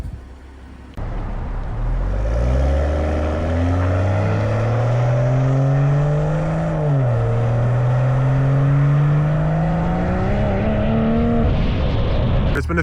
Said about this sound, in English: Here's some stock exhaust clips